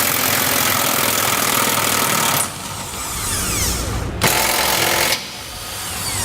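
A loud pneumatic impact wrench with a 15 millimeter socket removes a bolt, rattling in continuous bursts, then pausing, firing a short burst and stopping again.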